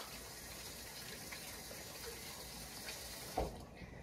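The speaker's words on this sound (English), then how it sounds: "Let me wash this potato." Tap water runs steadily into a kitchen sink while a red potato is rinsed for split pea soup, a faint continuous hiss with a brief knock near the end.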